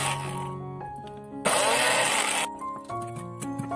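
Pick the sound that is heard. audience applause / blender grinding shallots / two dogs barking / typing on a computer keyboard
blender grinding shallots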